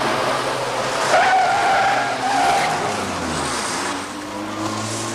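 A car pulls away with its tires squealing in a short skid, the loud engine revving up close and then easing off steadily as it drives on.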